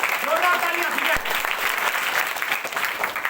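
Loud, sustained clapping from an audience at a study-skills session with students, steady and dense throughout with a brief sharp thump near the middle.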